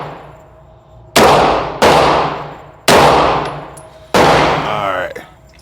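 Four loud gunshots from a Smith & Wesson M&P Shield EZ 9mm pistol, fired in an uneven rhythm with sharp cracks and long ringing decays, close and alone.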